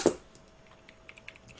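Someone types on a computer keyboard. One sharp, loud keystroke comes first, followed by a sparse run of faint, quick taps close by, with no talking.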